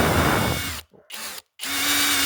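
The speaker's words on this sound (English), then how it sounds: "I'm going to drill out the chassis" A power drill fitted with a 3.5mm bit drills out the chassis of a Kiama hopper model kit, whining loudly, cutting out briefly twice and then running steadily again.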